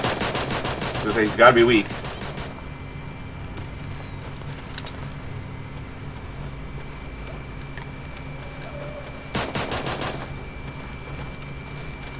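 Shotgun blasts in the cartoon battle royale game Super Animal Royale, a burst of loud shots at the start and another sharp burst later, with players talking over game noise.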